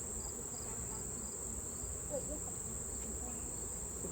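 Honey bees swarming around an opened hive during a honey harvest, a steady faint buzzing drone that continues without pause, with no talking.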